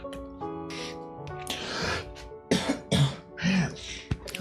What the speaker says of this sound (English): I wish I could stop coughing.